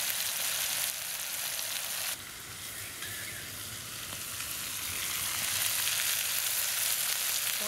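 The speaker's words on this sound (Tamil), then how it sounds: "மசாலா பரட்டின மீனை வந்து எண்ணெயில் போட்டுடலாம்." Masala-coated sura fish sizzles steadily in hot oil over a low flame, a dense continuous frying crackle that grows slightly louder toward the end, with no talking.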